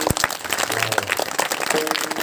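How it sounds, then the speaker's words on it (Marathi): Audience clapping at a comedy kirtan performance, a burst of scattered, irregular claps from a crowd filling a couple of seconds at moderate loudness, without talk. "टाळी वाजवा, गड्या टाळी"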